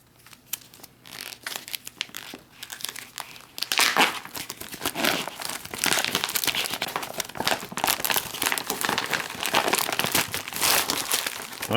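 Someone crinkles and tears open the plastic meal bag of a 2015 Meal Kit Supply MRE, Menu No. 9 Hash Browns with Bacon, in close, dense bursts of rustling that grow louder and busier partway through.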